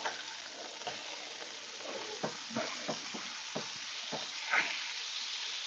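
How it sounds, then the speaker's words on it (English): Three burgers fry in a pan with a continuous loud sizzle, broken by irregular scraping and stirring knocks as they are moved around, with no talking. "Oh, y'all hear that sizzle? Getting a little loud in here, ain't it?"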